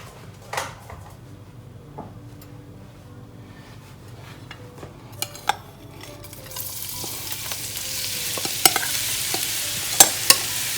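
Bitter gourd peels frying in a small amount of oil in a pan, a soft continuous sizzle with occasional spoon scrapes and taps, growing louder and hissier toward the end.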